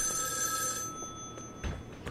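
A telephone rings in the back of the restaurant in the game Joe's Diner, a faint, steady trilling tone that fades out partway through amid soft game noise.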